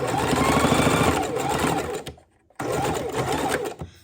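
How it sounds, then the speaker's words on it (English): A sewing machine runs a straight quarter-inch seam through fabric for a mitten, whirring steadily for two bursts with a short pause between, close and clear. "I'm just doing a straight stitch just like we did before. I have my 1/4 inch that I'm sewing down."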